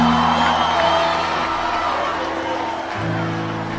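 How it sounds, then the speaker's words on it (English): A church congregation at a testimony service screams and cheers in a loud, sustained crowd roar with whoops rising above it, continuous throughout and filling the room. "You can scream louder than that."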